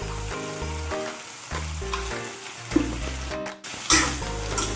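Sliced ivy gourd with curry leaves and salt sautéing in a pan for mezhukkupuratti, a continuous close sizzle broken by stirring scrapes and a brief lull, with no talking.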